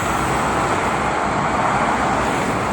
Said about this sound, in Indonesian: Masih didominasi oleh kendaraan mobil pribadi ya di libur akhir tahun.